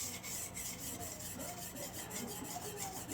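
A steel blade is pulled repeatedly across a Norton whetstone, producing a steady, close, gritty rasping stroke that repeats in an even rhythm.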